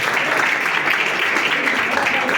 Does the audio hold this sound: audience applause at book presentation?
yes